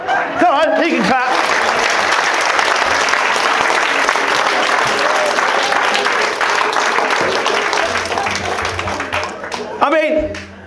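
A large audience claps steadily and loudly for about ten seconds, a dense wash of applause with brief voices at the start and end.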